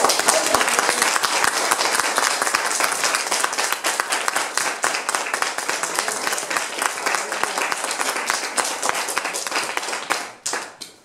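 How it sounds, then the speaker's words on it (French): A studio audience at a French game show applauds and claps loudly for a contestant, a dense, sustained roar of hands for about ten seconds that fades at the end. "Faites un maximum de bruit pour ce terrible concurrent qu'on appelle Fleur."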